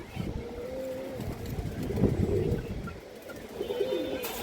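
High flyer pigeons coo in a low, throaty warble, with several rolling calls rising and falling through a soft, continuous background murmur at close range.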